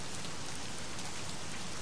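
Steady rain in the video game The Medium, a continuous even hiss of falling drops on surfaces, soft and without voices.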